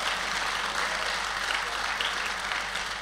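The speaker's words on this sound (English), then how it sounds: "if you're gonna clap, you will clap properly" An audience at a men's conference claps together in a full, steady round of applause, many hands close and even throughout a few seconds.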